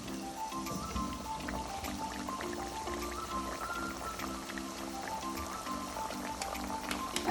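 Bajra tikki, sweet millet patties, frying in hot oil: a steady crackling sizzle with scattered pops that runs throughout, under faint tonal background sounds.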